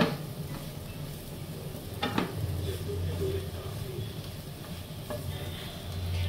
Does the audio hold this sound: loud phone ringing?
no